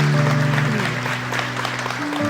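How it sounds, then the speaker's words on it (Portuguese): A church congregation applauds during a sermon, the clapping a busy texture beneath sustained keyboard chords that ring out loudly and shift pitch partway through. "aplauda o Senhor"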